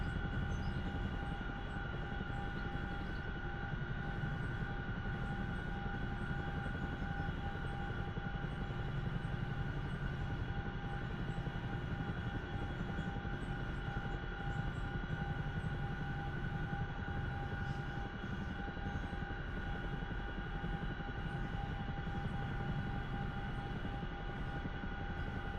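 Chinook helicopter flying in the DCS World combat flight simulator, a steady, loud rotor and engine drone with constant whining tones running unbroken throughout, no speech over it.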